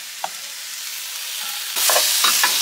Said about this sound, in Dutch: Lekker aan het koken, orzo.